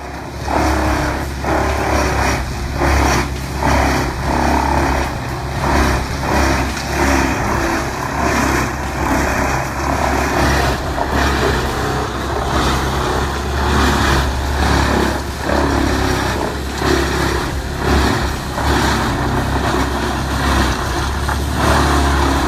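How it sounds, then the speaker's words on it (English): A wood chipper engine roars steadily and loudly while shredding logs, with a deep, constant drone and a rough, grinding texture throughout, with no voices. "the chipper turns trees into mulch without skipping a beat"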